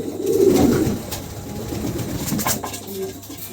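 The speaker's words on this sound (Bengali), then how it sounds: "চমৎকার খুবই চমৎকার একটা কবুতর" Lakha pigeons at a wholesale pigeon sale coo close by in soft, rolling, throaty phrases, with some faint background noise around them.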